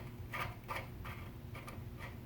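A wrench tightens a crank puller on a square-taper bicycle crank, giving faint, close ratcheting clicks in an irregular series of about six ticks.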